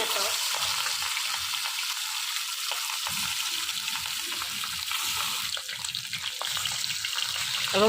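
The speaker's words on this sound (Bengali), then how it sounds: "লাল করে করে ভাজবা" Continuous loud sizzling of catla fish frying in hot oil, a dense crackling hiss throughout with a few soft clicks and faint background sounds.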